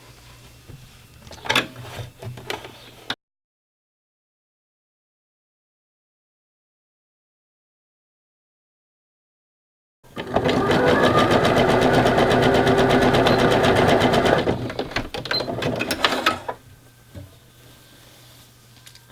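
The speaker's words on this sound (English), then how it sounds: "So now I'm going to sew the other side as well." Sewing machine stitching lace trim onto a garment leg opening, a steady mechanical run of a few seconds that starts abruptly, then slows and stops, with quieter handling sounds before and after.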